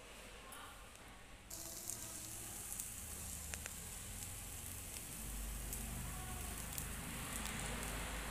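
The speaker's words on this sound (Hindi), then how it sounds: "तो देखिए दूसरा भी मैंने तवे पे डाल दिया है बेटर।" Besan chilla batter sizzling on a hot tawa griddle, a steady close crackling hiss that holds throughout and thickens slightly toward the end, with no talk over it.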